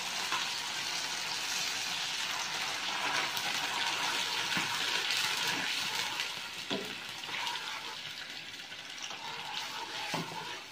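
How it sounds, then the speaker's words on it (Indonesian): Sauce and water are poured into a pan of browned food, setting off a steady, loud sizzle and hiss with bubbling and splashing for about ten seconds, with no talking. "kita tuangkan sausnya. Dan kita tambahi air."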